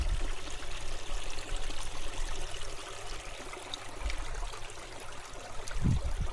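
Water in Brown Mountain Creek rushes steadily over rocks in a mountain stream, a constant, close wash of flowing water with no talk over it.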